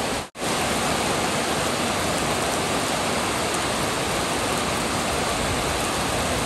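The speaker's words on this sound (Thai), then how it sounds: "วันนี้ฝนแรงก็จริงค่ะแต่ว่า ไม่มีลมนะคะไม่มีลม" Heavy rain pouring without wind, a dense, loud, continuous hiss of falling water that fills everything, broken only by a brief dropout near the start and otherwise steady with no voices.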